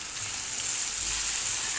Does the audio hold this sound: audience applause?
no